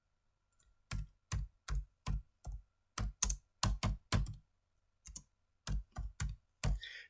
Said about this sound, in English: So the type of invention that you're going to file on, you would type in here